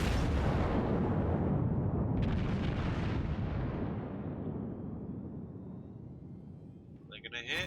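Battleship guns firing in World of Warships: one heavy, booming salvo right at the start, its deep rumble rolling on and slowly fading over several seconds, with a faint crackle at the end.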